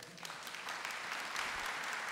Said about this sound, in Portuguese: Vamos aplaudir São José?